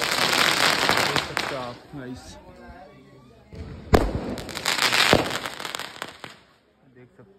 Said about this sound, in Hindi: देख सकते हो आप गाइस कितने तगड़े बम फोड़ रहा हूँ मैं